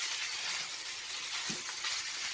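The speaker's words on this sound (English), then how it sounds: "keep it on high the whole time, and then keep stirring it with your fork" Noodles stir-fried on high heat, a dense steady sizzle with faint scrapes from a fork stirring through the pan, heard close and alone.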